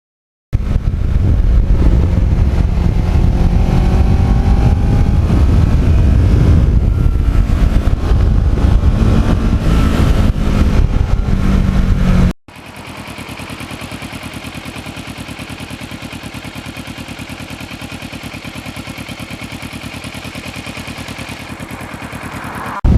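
A restored black Kawasaki Ninja motorcycle with an uneven-firing twin engine, a loud, gritty engine drone that shifts pitch as it revs, then changes abruptly to a steadier, lower and quieter running rumble.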